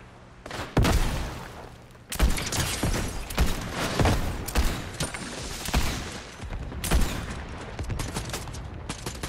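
Gunfire in the Fortnite video game: dense, continuous bursts of rapid shots close by, with a brief lull before the firing resumes and keeps going through most of the stretch.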